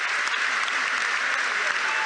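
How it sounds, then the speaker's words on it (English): The football crowd at Goodison Park applauds during Everton versus AFC Bournemouth in the Premier League, a brief burst of steady, dense clapping that fills the stadium at an even loudness. "Damari Gray applauds all around Goodison Park"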